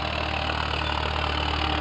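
A Farmtrac 6050 4WD tractor engine idles with a steady, even rumble that neither rises nor falls, close and moderately loud with no voices.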